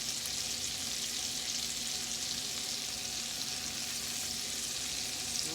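Steak frying in melted butter in a pan, a steady close hiss and crackle of sizzling fat that continues evenly throughout with no talk.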